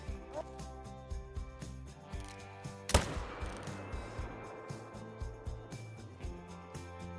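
A single rifle shot rings out in the hunting video game Call of the Wild, a sharp crack with a brief decaying tail set against soft, steady game background tones and small ambient ticks.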